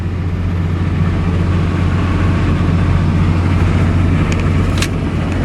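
A 2005 Ford F650 rollback flatbed truck with a 5.9 liter engine cruising at about 59 mph near 2,000 RPM, a steady loud low engine drone with road rumble from inside the cab, unbroken throughout.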